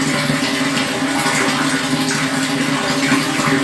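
Water runs steadily into a sump tank, making a continuous broadband rushing and splashing wash with no breaks or pauses.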